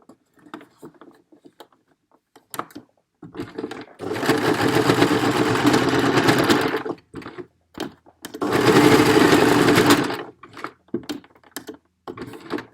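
A sewing machine stitches a fabric face mask in two sustained, loud, close runs of a few seconds each. Quieter handling clicks and rustles of fabric sit between the runs.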